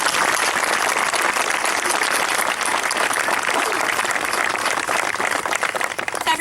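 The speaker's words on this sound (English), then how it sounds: "Please give this gentleman a round of applause." At a Vietnam Moving Wall memorial ceremony, a crowd claps for a gentleman, a full, steady wash of applause that holds for over six seconds with faint crowd murmur underneath.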